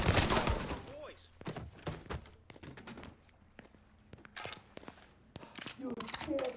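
Gunfire in Mafia III: scattered sharp shots in short irregular bursts, some close and loud, others fainter, with shouting voices over them.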